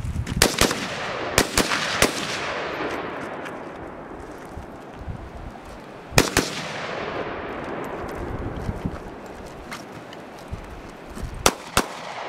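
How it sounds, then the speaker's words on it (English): An AK rifle fires outdoors in loud, sharp single shots and short bursts spread irregularly across the stretch, each crack trailing a long echoing rumble. "Alicia loves the AK. She always begs to go shoot it"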